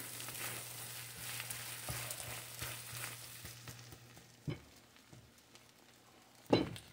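Scrambled eggs with Canadian bacon fry quietly in a pan, giving a faint even sizzle with a couple of brief scraping knocks toward the end.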